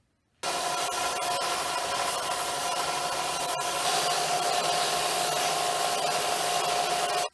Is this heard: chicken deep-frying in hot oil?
no